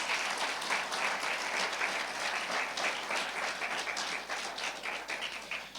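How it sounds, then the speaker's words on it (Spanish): A church congregation breaks into vigorous, continuous applause during a worship service, a steady wash of many clapping hands with no break. "Denle un fuerte aplauso al Señor"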